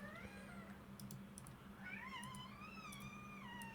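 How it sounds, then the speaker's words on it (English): A cat yowls and meows in drawn-out wavering cries in the background of a home work setup, several calls rising and falling over soft keyboard typing and clicking, moderately faint, no talking. "a cat yowling in the background"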